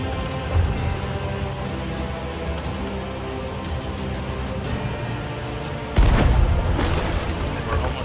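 Steady dense Sea of Thieves game noise with a loud low boom of ship cannon fire near the end, followed by continued rumbling.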